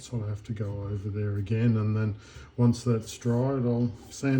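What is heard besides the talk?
No everyday noise stands out behind the speech.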